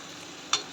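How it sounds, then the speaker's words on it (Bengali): Spices fry with a soft, steady sizzle in a pan as turmeric powder is stirred in, marked by a single short scrape of the spoon. "হলুদ গুঁড়ো দিয়ে যে মশলার সাথে ভালোভাবে মিশিয়ে নিচ্ছি"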